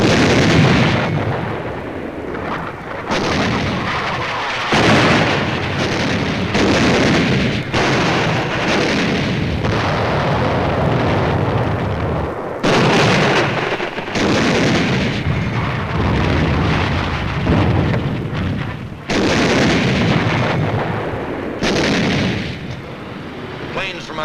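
Heavy naval gunfire from US Navy warships shelling Iwo Jima in 1945, a dense, continuous barrage of booming artillery blasts and rumbling explosions that rolls on without pause at loud, close range.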